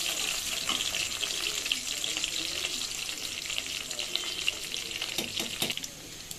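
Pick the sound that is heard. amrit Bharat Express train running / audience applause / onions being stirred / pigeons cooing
onions being stirred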